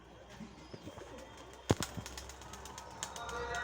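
Pigeons, including a Fulshira breed, coo softly in a home loft, with faint low calls, a few sharp clicks and light rustling.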